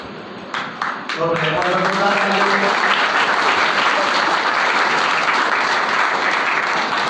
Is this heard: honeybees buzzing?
no